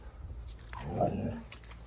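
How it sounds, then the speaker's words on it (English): A dog at home whimpers and gives a soft, strained yelp-like cry, faint and brief against low background noise. "Let me go calm my dog down."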